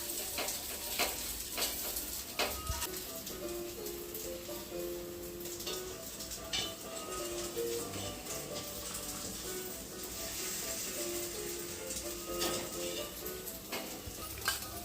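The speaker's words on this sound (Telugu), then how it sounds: "ఇప్పుడు పెన్నం కాబట్టి మంచిగా వేసేస్తాం పొంగనాలు." Pongnalu (paniyaram) batter frying in a hot pan, a faint steady sizzle and crackle of oil with occasional light clicks of utensils, close but quiet and continuous.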